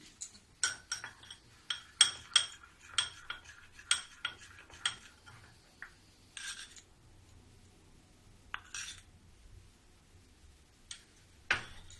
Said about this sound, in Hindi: अब जो ये हरा वाला कलर मिलाऊंगी, इसके लिए मैं दूसरा चम्मच लूंगी।